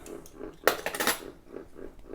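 Metal spoons and a ladle clink and jangle together in a short, bright flurry, nearby, with softer faint rattles before and after.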